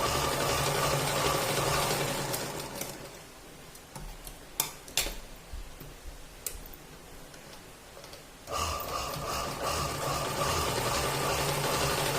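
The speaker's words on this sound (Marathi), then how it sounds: "आता आपल्याला परत काय करायचं आहे इकडनं पण अशा शिलाई मारून घ्यायचे" Sewing machine stitching a cloth bag made from leftover blouse fabric, a close rapid mechanical whirring that runs steadily, drops to quieter clicks and handling in the middle, then resumes at full speed.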